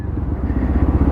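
Lexmoto Tempest 125cc motorcycle engine running on a test ride, a steady low throbbing drone with a slight pulse, close and continuous throughout.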